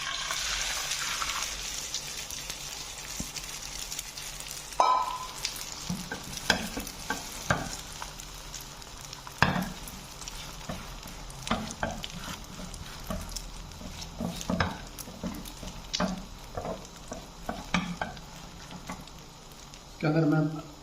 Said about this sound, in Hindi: ऑयल हमारा गर्म हो गया है, इसमें ये मैं अंडा डाल रहा हूँ फेंटा हुआ।